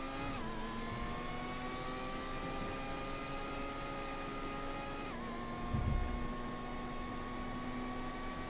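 A Formula One car engine in a racing video game holds a high, steady harmonic whine that dips slightly and shifts pitch midway, followed by a brief low thump, played alone at moderate level.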